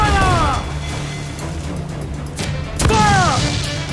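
Ship cannons fire in Assassin's Creed 4 Black Flag, two heavy booming blasts about three seconds apart over a constant low rumble of sea and battle, with sweeping whooshes after each shot.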